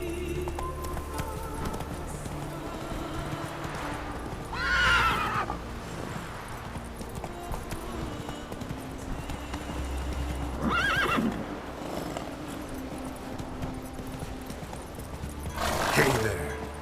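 A horse in The Witcher III: Wild Hunt gallops with steady rhythmic hoofbeats and whinnies three times at even intervals, loud and close, with someone speaking occasionally.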